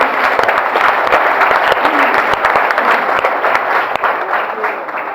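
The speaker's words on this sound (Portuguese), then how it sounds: "Você pode dar um forte aplauso ao Senhor?" A church congregation bursts into steady, dense applause for the Lord, many hands clapping together for several seconds, loud and continuous and filling the hall.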